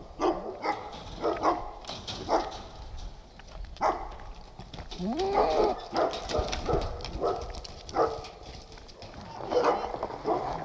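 Dogs bark in scattered bursts at a moderate distance on a property with goats, horses and a wolf, with clattering sounds and occasional voices in between.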